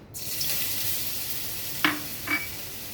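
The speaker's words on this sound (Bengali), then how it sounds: "তেলও গরম হয়ে গেছে। এবারে আমি আদা রসুনটা দিয়ে দিচ্ছি।" Ginger and garlic hit hot oil in a pan already holding fish, giving a steady broadband sizzle throughout with two brief sharper spatters near the end.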